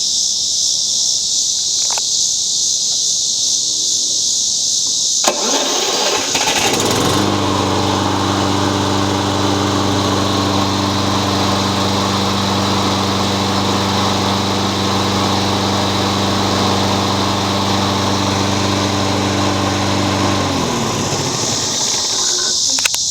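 A John Deere lawn tractor cranks and its engine catches after an ignition repair and a new battery. It settles into a loud, steady idle close by, with high insect-like buzzing in the background.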